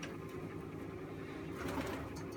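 A pigeon, recently freed from a plaster cast on its leg and put back into the dovecote, coos softly and steadily among other birds, with a faint low ambient hum throughout.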